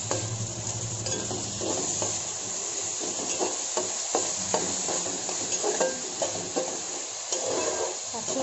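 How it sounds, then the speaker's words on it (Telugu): Onions and tomatoes fry in a pan for spicy chicken fry, with a steady sizzle under repeated scraping and tapping stirs of a spoon, close and evenly paced. "ఇందులో టమాటాలు వేసి వేయించుకోవాలి."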